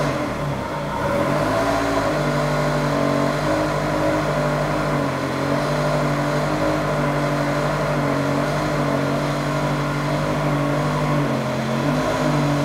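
A Ferrari 360 engine, on a car with a failed heat exchanger, runs close and loud with sustained revving, a steady throaty drone holding for the whole stretch with no talk.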